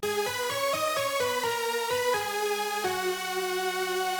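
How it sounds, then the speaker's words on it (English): Dry progressive house synth lead with no effects, playing a steady melodic line of sustained chord-like notes that shift pitch every half second or so, bright and harmonically rich, loud and alone with no talking. "The leads without effects sound like this."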